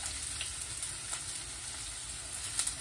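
Chopped onions sizzling steadily in a hot pan for a Filipino-style chicken curry, a loud constant frying hiss with a few faint pops and no talking.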